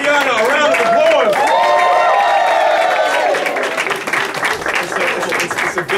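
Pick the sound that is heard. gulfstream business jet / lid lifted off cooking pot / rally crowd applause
rally crowd applause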